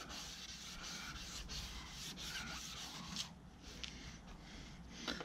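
Abrasive paper is worked over the plastic lens of a Mercedes C220 headlight during renovation, giving faint, close, repeated rubbing strokes with a few sharper scrapes.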